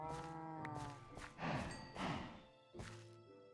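A cow in modded Minecraft gives several short, low moos, spaced unevenly across a few seconds, with soft thuds in between. The sounds are faint and close, with no talk.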